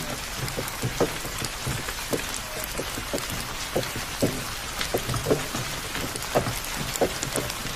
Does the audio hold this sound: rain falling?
yes